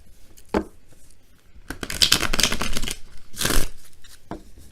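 Tarot cards being shuffled by hand come in several crisp bursts of riffling and slapping, close and fairly loud, separated by quieter pauses with no talk.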